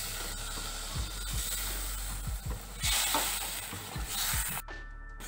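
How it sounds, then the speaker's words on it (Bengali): Turmeric powder, chopped tomato and spices sautéing in a pan for a vegetarian mustard potol curry, a steady close sizzle broken by repeated stirring scrapes and soft utensil knocks. "মশলাগুলো হালকা করে কষিয়ে নিয়েছি"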